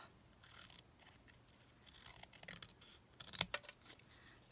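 Scissors trimming paper for a Halloween memory-keeping craft page, heard as a few faint, close snips and crisp cuts in a quiet room.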